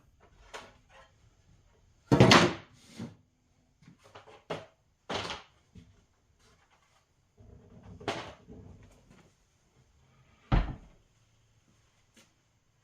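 A wall-mounted wooden folding table on hinges, built with pipe clamps, is swung and dropped repeatedly, making a series of close, hollow wooden thunks and clacks with a few louder slams between softer knocks.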